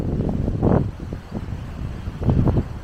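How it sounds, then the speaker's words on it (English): Wind gusting across an open cemetery, a low rumbling roar that swells and fades in uneven bursts close to the microphone. "it is windy here today, so I hope you can hear me."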